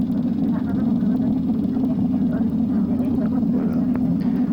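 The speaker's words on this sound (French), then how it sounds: "Voilà, le point fixe a été fait." A light airplane holds an engine run-up at the end of a runway before takeoff, a steady loud droning hum that stays constant, with someone narrating in French over it.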